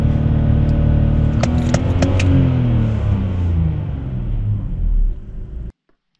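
A BMW 530i engine rumbling loud and close under hard throttle, its low tone shifting as it revs, with a few sharp metallic clicks partway through before it cuts off abruptly near the end.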